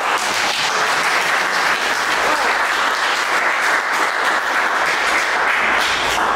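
A crowd applauds at an artist discussion event, producing a thick, continuous wash of clapping that stays loud and steady for several seconds without any voices on top.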